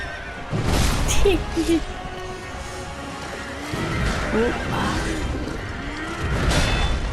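A horse whinnies as it leaps during gameplay in Sekiro, the neigh rising over busy game sounds and a talking voice, with rustling movement around it.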